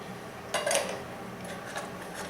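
Lightweight camping bowls and thin plate-style cutting boards from a hiking cook kit clatter and scrape as they are handled, a short cluster of light knocks followed by softer rubbing, close and quiet with no talking.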